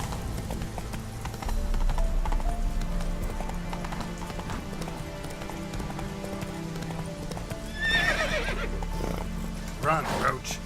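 Roach the horse in The Witcher 3: Wild Hunt, hooves clip-clopping at a steady gallop under game music, then two sharp whinnying neighs near the end.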